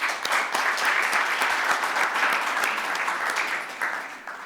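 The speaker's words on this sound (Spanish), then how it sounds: "Podemos darle un aplauso." An audience at a formal health lecture ceremony claps steadily, a dense sustained wash of applause that holds throughout and tapers slightly near the end.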